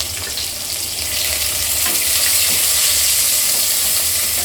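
Thinly sliced onion fries with cumin seeds for rice pulao, making a loud, continuous broadband sizzle that swells a little after the first second and holds steady, with no voices.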